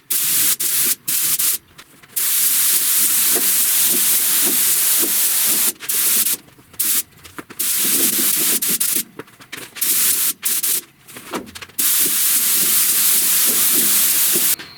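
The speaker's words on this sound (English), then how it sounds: "I'm going to shoot the edge over there where I ran out of primer, just on the very edge, and then put the second coat on" Spray gun shooting epoxy primer onto a 1969 C10 truck hood, loud steady hissing bursts broken by short pauses between passes, close up and with no talking.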